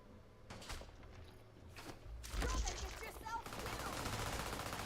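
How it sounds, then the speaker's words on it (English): Gunfire from a fleet in the video game Starfield comes as scattered bursts of shots and impacts, moderately quiet and mixed with other game sounds. "Is the fleet shooting my pet?"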